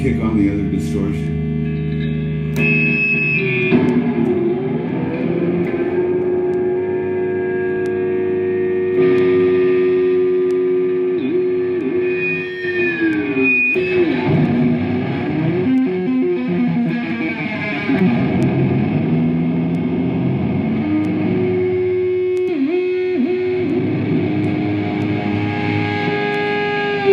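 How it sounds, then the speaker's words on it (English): A heavily distorted electric guitar, played live at a guitar event, drones and wails with sustained, feedback-laden tones that bend and swell, loud and close throughout. "And then kick on the other distortion."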